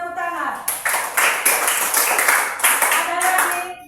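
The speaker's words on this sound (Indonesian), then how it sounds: "Bagus, tepuk tangan." Hand clapping from a small class of students in a religious education lesson, a few sharp, distinct claps in an irregular rhythm, close and fairly loud, with speech mixed in.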